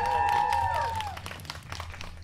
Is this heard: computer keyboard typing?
no